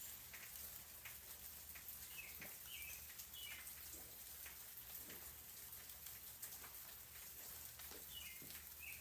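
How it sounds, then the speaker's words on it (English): Rain falls steadily in a front yard, a soft, even patter with scattered drips. Faint bird chirps come through now and then, and no one speaks. "enjoy the ambient sound of rain in the front yard"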